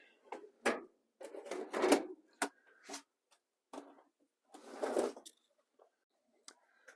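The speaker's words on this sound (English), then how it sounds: "slide the whole cartridge out." An Aprilaire Space Gard filter cartridge is pulled out of a furnace cabinet, giving a run of scraping, rattling slides and knocks in uneven bursts, close and fairly loud.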